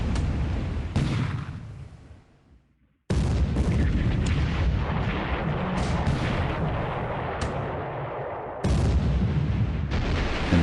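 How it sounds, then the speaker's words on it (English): Heavy 12-inch naval guns in a video game fire in rapid successive booms at destroyers, loud and dense, with one brief silence before the barrage resumes. "A whole 12-inch gun hitting a destroyer."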